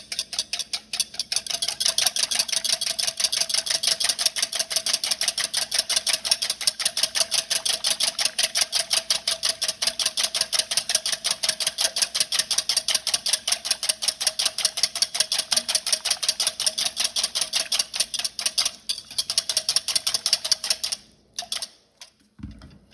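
A whisk beats rapidly against a bowl, making a fast, even, ticking rattle that runs steadily for about twenty seconds and then stops. It is salad dressing being emulsified while olive oil goes in slowly, for a roasted vegetable panzanella.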